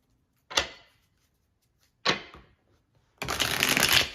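Tarot cards shuffled by hand up close: two quick riffles a second or so apart, then a longer continuous shuffle burst.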